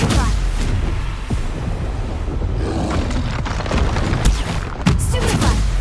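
Confringo spell blasts from Hogwarts Legacy go off as a run of sharp booms and bursts, loud and close, over continuous combat noise.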